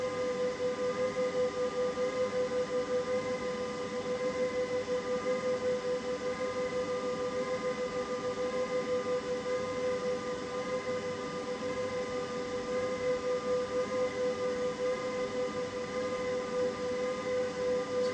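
A loud, steady electronic hum with a high tonal whine from an EG4 18kpv solar inverter running under load, constant throughout with no talking.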